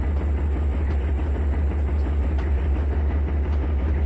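An incoming train in the Trainz 2019 railroad simulator gives a steady, loud low rumble of heavy engine and rolling wagons, droning continuously with faint clicks over it and no speech.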